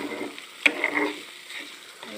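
Cooked rice being stirred and mixed with spices in a pan, a soft, brief scraping with a faint sizzle beneath and one sharper clink near the start, close and fairly quiet.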